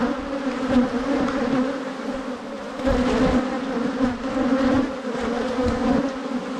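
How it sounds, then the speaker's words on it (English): A dense, loud swarm of agitated honey bees drones steadily up close at a hot summer ranch in Atascosa County, with the buzzing pitch wavering as individual bees pass. "I have the most unhappy bees in Atascosa County"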